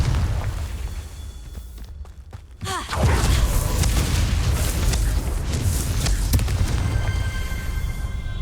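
The Confringo fire spell goes off in the Hogwarts Legacy video game, a single heavy boom partway through. A loud rumbling blast and crackle follow and carry on to the end.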